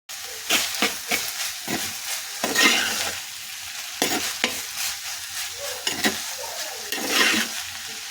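Crushed coconut and cumin mixture being stirred and fried into wilted banana stem for thoran, with a steady sizzle broken by repeated scraping stirs of the spoon across the pan.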